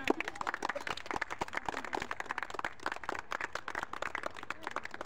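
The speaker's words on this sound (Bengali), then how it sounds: "সবাই একটা তালি হবে।" A group of players clap together to kick off a children's pass-the-object party game, a fairly steady run of sharp hand claps at moderate distance with a few voices mixed in.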